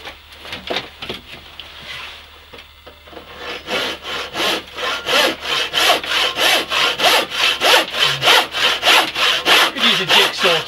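Hand saw cutting dovetails in wood for a door frame while restoring an 1875 log house, starting with short tentative strokes then settling into a steady, loud back-and-forth rhythm of about two strokes per second.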